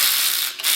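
A ratchet wrench loosens head bolts on a Kohler K301 engine, giving a close, brisk run of rapid clicks that dips briefly, then resumes.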